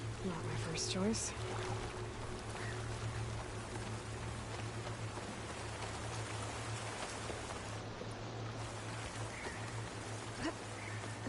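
Steady rain in Horizon Forbidden West patters and hisses continuously at low volume, with a few faint clicks and voices early on.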